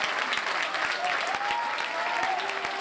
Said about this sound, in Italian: Lo sosteniamo con un applauso, forza!